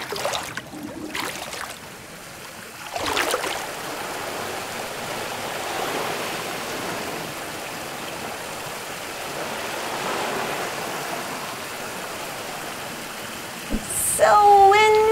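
Flowing stream water babbles and rushes steadily at moderate loudness, with a few splashy surges along the way and a brief whistle-like squeak near the end.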